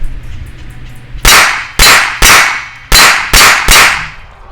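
A Springfield 911 .380 pistol firing steel case ammunition, six sharp, loud close shots in an uneven rhythm, each with a short ringing decay, following a quiet lead-in.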